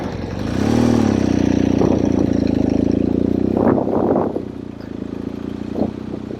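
A vehicle engine idles during sand riding, a steady mid-pitched hum that runs loud at first, then drops to a quieter idle with a few brief rattles and knocks.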